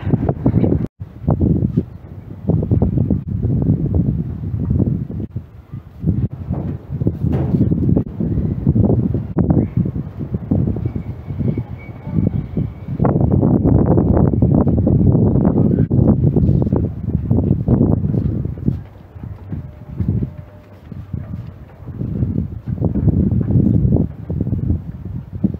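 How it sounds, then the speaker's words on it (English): Strong wind buffets the microphone in loud, rumbling gusts that rise and fall throughout, with brief lulls between blasts. "It's so windy today."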